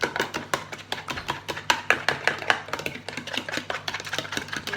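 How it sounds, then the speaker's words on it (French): An egg being beaten in a bowl with a whisk or fork for gluten-free bread, giving quick, rhythmic clicking strokes at a steady pace, close and clear with no voices. "vous cassez votre œuf et à l'aide d'un fouet ou d'une fourchette, vous le battez"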